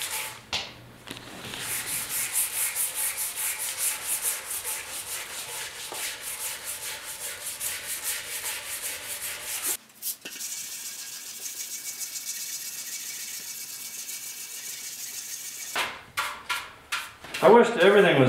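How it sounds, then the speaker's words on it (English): A Yamaha RS 100 motorcycle fuel tank is sanded by hand in long continuous scraping strokes, steady and close, briefly interrupted around the middle, with a few clinks toward the end. "I wish that everything was as easy to sand in this tank."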